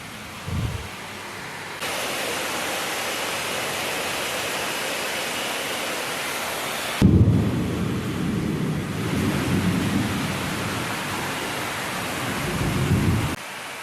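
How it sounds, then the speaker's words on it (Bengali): Heavy rain pours down in a dense, steady roar, swelling louder partway through, with deep rumbles underneath; no voices. "অনেক বৃষ্টি পড়তেছে প্রচণ্ড জোরে"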